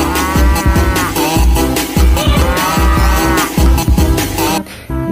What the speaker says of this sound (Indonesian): ini namanya sapi susu ya teman-teman